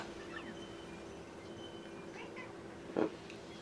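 A cat gives a short meow in a Paper Mario video game scene, one brief call near the end standing out over a quiet, steady background.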